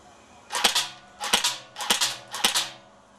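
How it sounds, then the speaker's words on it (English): An ST Armaments PPSH-41 electric blowback replica gun fires four short, sharp bursts at a slow cyclic rate, each a quick double-clack of the mechanism, close and loud with brief pauses between. "Now this is the ST Armaments PPSH-41. Now you'll instantly notice there's a difference because this one's got an electric blowback."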